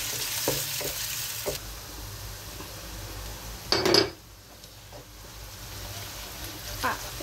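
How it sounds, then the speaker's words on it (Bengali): Chopped onions fry in hot oil in a pan, a steady close sizzle with occasional stirring scrapes and a sharp clatter of a utensil midway. "তেলটা গরম হয়েছে, এটা পেঁয়াজ কুচি দিলাম।"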